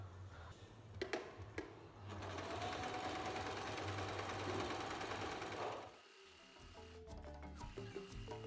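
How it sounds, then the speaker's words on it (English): A sewing machine runs a steady, continuous seam up the side of a dress for about four seconds, framed by short clicks and handling noises before and after, with no talk. "to stitch the side of the dress."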